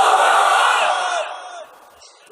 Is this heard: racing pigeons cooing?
no